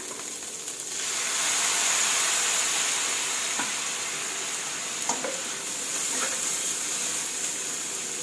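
Bamboo shoots and egg stir-fry in a pan as water is added, a loud broad sizzling hiss that swells after a second and holds, with occasional scraping clicks of stirring.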